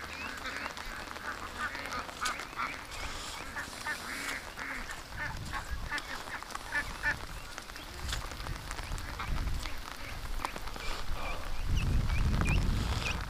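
Ducks and geese honk and quack in a steady busy chorus on a farm in heavy rain, with water noise and rustling close by, mostly alone without talk.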